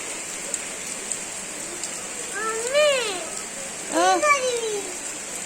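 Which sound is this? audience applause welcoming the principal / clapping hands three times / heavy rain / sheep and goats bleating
heavy rain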